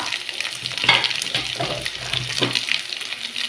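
Broad bean pods frying in a pan with salt, red chilli powder, turmeric and masala, a steady close sizzle with a few louder stirring scrapes, no talking.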